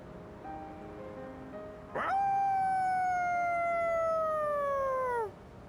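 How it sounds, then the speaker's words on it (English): A dog howls in the video game Persona 3 Reload, a single long, clear, wavering howl that begins abruptly, holds for about three seconds and slowly falls in pitch before cutting off, over quiet background. "Somehow I knew he was gonna howl."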